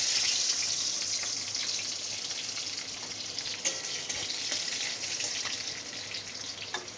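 Halved garlic cloves fry in hot oil in a home kitchen, giving a steady, dense sizzle that hisses continuously and fairly loudly, with a few faint clinks and stirring sounds.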